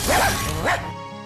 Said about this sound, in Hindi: अरे वाह, कितना सुंदर कुत्ता है।